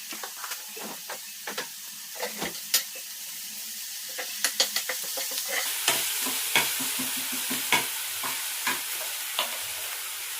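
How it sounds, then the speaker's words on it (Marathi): Onions fry in a pan with salt, a continuous hiss of sizzling broken by frequent scraping and clicking stirs, close and fairly loud, with no voices. "इथे मी मीठ टाकते म्हणजे कांदा आपला लवकर सॉफ्ट होईल"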